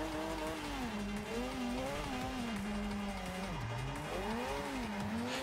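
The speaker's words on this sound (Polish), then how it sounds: "Tutaj musiałem taki ślizg zrobić, bo nie miałem jak się inaczej przygotować ze względu na ten ruch uliczny." A Mazda RX7 drifting in Forza Horizon 2, its rotary engine droning and wavering in pitch as it slides, with a continuous loud tire squeal throughout.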